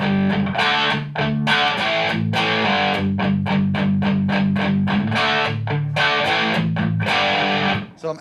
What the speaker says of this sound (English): So I'm adding little bits of distortion into the front of each pedal to get a different sound at the end.